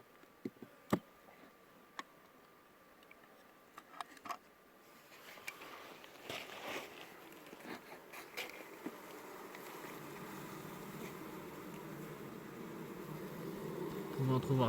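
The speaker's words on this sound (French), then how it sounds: "Voici des abeilles en train de nous produire de la cire et du miel de Marari." Bees working a hive in a valley in Yemen, producing wax and honey, their buzzing faint at first and swelling into a dense, continuous drone with scattered close clicks and ticks.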